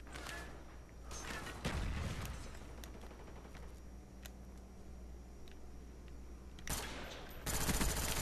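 Gunshots crackle through a video game free-for-all match: an early cluster of sharp shots, a quieter stretch with scattered clicks, then heavy volleys near the end, fairly loud and with no speech.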